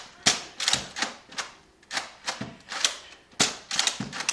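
Nerf guns firing in rapid succession, a string of about a dozen sharp close plastic snaps and clacks at an uneven quick rhythm.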